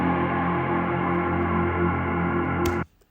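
A sustained, dense atmospheric synth pad from a dancefloor drum and bass track, holding steady and loud with layered tones before cutting off abruptly near the end, with no talking.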